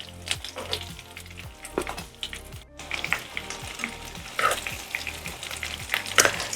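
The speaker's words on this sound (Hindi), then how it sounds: "ये देखें, हमारे ये क्रॉकेट्स फ्राई हो गए हैं।" Potato croquettes, browned and turned over, frying in hot oil with a steady crackling sizzle and bursts of bubbling, occasional light clatter of utensils close by, no voices.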